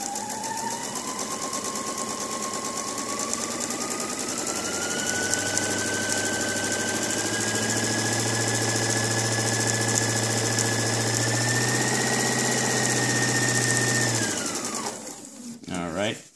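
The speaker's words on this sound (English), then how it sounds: "I've got a white thread already loaded up. I'm just going to do this one first." A sewing machine runs steadily for about fourteen seconds, stitching a straight seam in plastic bag material with white thread, its motor whine rising slightly in pitch before stopping, followed by a brief clatter.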